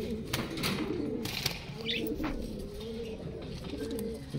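Madrasi pigeons coo softly in a loft in Loni, Ghaziabad, with low repeated hums in a slow rhythm beneath a busy background and occasional clatter and chirps.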